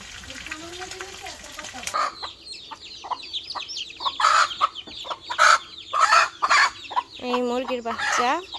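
A mother hen clucks near her chicks in a village yard, with rapid repeated clucks and a few louder squawking calls up close, while a voice murmurs faintly at the start.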